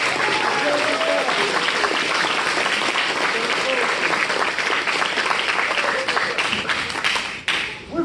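Loud, close audience applause at a live improv show, thick and continuous with a crowd feel, thinning briefly just before the end as the clapping starts to fade.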